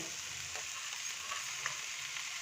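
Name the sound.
broccoli frying in butter and garlic in a pan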